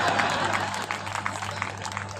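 An audience at a comedy show at the Bundi festival claps and applauds steadily, the applause dense and fairly close, with a voice speaking faintly beneath it.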